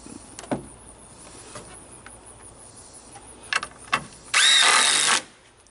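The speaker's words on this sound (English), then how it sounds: "and it's just screwing them in at this point." Power drill driving screws into porch boards outdoors, a single loud high-pitched whirring burst of under a second near the end, preceded by scattered knocks and clicks over quiet outdoor background.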